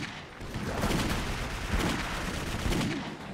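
Gunfire rings out in the first-person shooter Clive Barker's Jericho, a run of loud, close, overlapping shots and booming impacts that carries on throughout.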